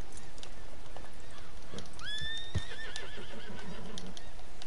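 A horse in the video game Red Dead Redemption 2 gives one clear whinny midway, over a steady background of hoofbeats and game ambience.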